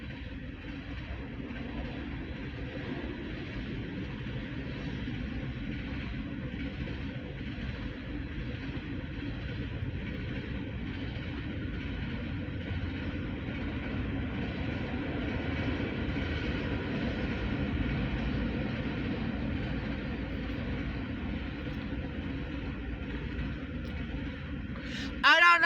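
A CSX manifest freight train passes near Erie, Pennsylvania. It makes a steady, continuous rumble and rolling-wheel roar that holds for the whole stretch at moderate loudness, and a brief louder burst comes at the very end.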